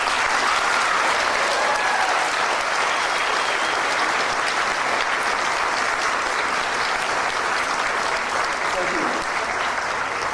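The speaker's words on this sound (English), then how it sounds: "and I think they all deserve a round of applause." An audience applauds entrants at a steampunk fashion contest at a convention, a dense sustained wash of many clapping hands holding steady and loud for the full stretch.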